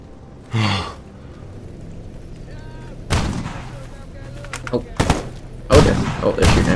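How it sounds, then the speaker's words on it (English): Enemy gunfire in STALKER GAMMA, with several separate sharp, loud shots spaced a second or more apart, over a low background hum and faint breathy sounds. "Oh, they're shooting at me."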